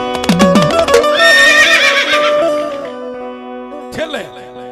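A loud, close horse whinny rings out as a sound effect within a Gujarati devotional folk story about a goddess riding to a riverbank village, with a second shorter neigh near the end.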